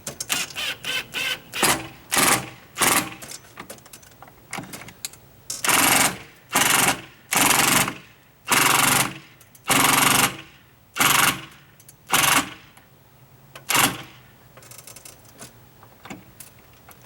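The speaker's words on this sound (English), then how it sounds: "The beauty of the impact drill." Repeated bursts of an impact drill driving a screw, rapid and hammering, short at first then longer pulses, close and loud with brief pauses between.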